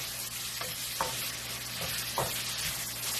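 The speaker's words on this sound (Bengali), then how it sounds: "পেঁয়াজ এখন সোনালী কালার হওয়া পর্যন্ত আমি ভেজে নিব।" Onions frying in a pan until golden, a continuous sizzle broken by several distinct stirring scrapes about once a second, close and with no talking.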